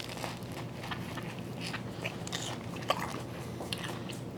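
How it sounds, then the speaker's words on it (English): Crunchy bites into a malasada, a Hawaiian fried doughnut from an Oahu bakery, with a few crisp snaps and chewing noises close to the mic, against a steady background hum. "Nice crunch. You can hear it."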